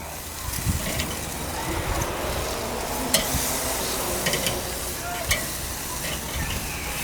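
Shish kabobs in an orange ginger marinade sizzle steadily over the heat in a continuous crackling hiss, with occasional pops and clicks throughout.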